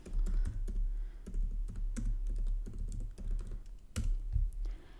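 Typing on a computer keyboard while entering a terminal command during a data science setup, a steady close run of quick key clicks with a few louder strikes and no talking.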